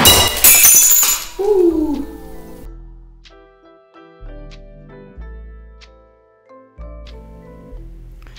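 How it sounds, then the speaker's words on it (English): Glass shattering during a glass-to-metal glue joint test with a bucket weighted by lead scuba weights, a loud crash and burst of breaking glass followed by scattered clinks and tinkling fragments settling. "The glass shattered before the joint failed"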